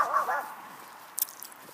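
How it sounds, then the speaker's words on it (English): A dog barks across the street toward neighbouring dogs in a field, giving two quick close barks at the very start, then only faint, sparse sounds for the rest. "Jefferson barking at Lois's dogs in the field across the street"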